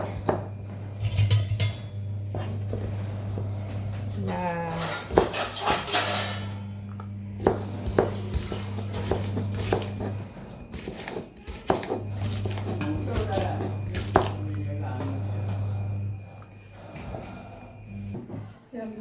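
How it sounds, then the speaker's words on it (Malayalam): Okra being chopped into small pieces with a knife, producing a steady run of sharp taps against a board, heard beneath a person talking and a low electrical hum. "വെണ്ടക്ക ഇങ്ങനെ അരിയാൻ ചെറിയ ചെറിയ കഷ്ണങ്ങളാക്കി അരിയാണ്"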